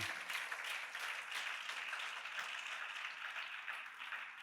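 A church congregation clapping together in praise, a sustained, fairly faint wash of many hands with no voices over it.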